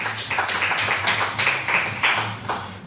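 Church congregation clapping in a rhythmic, steady beat, many hands together producing loud, evenly spaced bursts, with a low background hum underneath and no voices.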